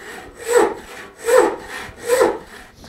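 A hand saw cuts through wood in three even rasping strokes, close and clear, with short pauses between them and nothing else heard.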